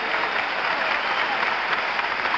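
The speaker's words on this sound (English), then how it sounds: "they're giving Charlie Scott an ovation" A basketball arena crowd gives a sustained ovation during a 1976 NBA Finals game between the Celtics and the Suns, a dense, steady wash of applause and cheering from thousands of fans with no pauses.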